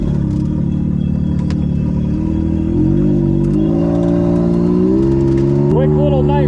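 A Yamaha YXZ side-by-side drives on a night ride, its engine droning close and loud, climbing through gears with rising revs while voices talk over the noise.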